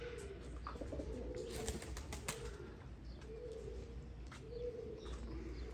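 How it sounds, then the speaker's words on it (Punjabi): A Ferozpuri female pigeon coos in soft repeated low phrases among other birds. Faint chirps and a flutter of wings sound over a quiet, steady background. "ਇਹ ਕਬੂਤਰੀ ਫਿਰੋਜ਼ਪੁਰੀ ਜੇ ਮਾਸ਼ਾਅੱਲਾ, ਬੜੀ ਚੰਗੀ"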